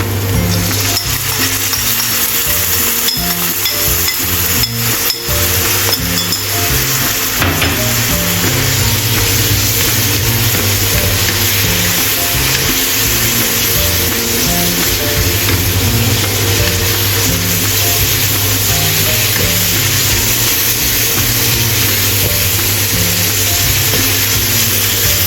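Vegan stir-fry sizzles steadily in a hot pan after seasoning sauce goes in, a continuous close hiss and crackle running the whole time with game-like background music tones underneath and no talking.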